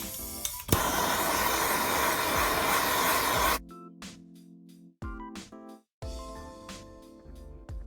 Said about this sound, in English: So I'm gonna go ahead, preemptively heat it up with a torch.